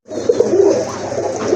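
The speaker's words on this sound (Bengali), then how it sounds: "এটা হচ্ছে মাদি কবুতর।" A female pigeon coos at close range, a soft low burbling call repeated in a short continuous run with no talking over it.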